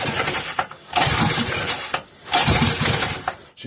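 A 3.5hp Briggs and Stratton small engine is being pull-started. Loud, rough sputtering bursts come in repeated surges with short gaps between pulls, and the engine never settles into a steady run.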